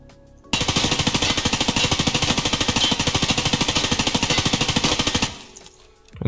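An M4 rifle fires full auto in Escape from Tarkov, with a 60-round magazine emptied in one long unbroken burst of rapid, evenly spaced shots that are loud and close, followed by a brief mechanical tail.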